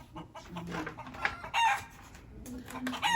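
A chicken clucks in short, irregular bursts with a brief crowing call mixed in, fairly close and moderately loud against a quiet background.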